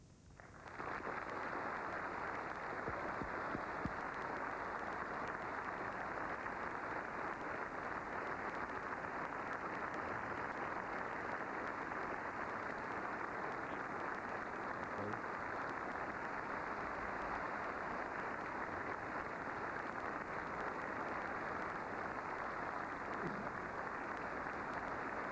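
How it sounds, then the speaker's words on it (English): A debate-hall audience applauding to welcome presidential candidates Governor Bush and Vice President Gore, steady distant clapping that starts abruptly and continues evenly at a low level throughout. "they will applaud as we welcome the 2 candidates, Governor Bush and Vice President Gore"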